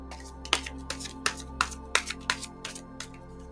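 Tarot cards being shuffled close up, a quiet run of about nine crisp riffling bursts at a steady rhythm, with no talking.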